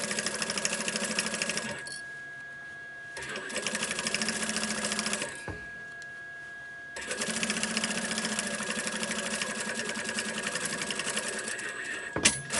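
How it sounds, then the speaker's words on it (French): Sewing machine stitching a quilted crossbody backpack and its lining together in long continuous runs, with two short pauses between bursts of steady mechanical whirring. "je couds tout en même temps, à la doublure avec le sac"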